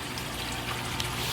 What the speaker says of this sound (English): the water coming back out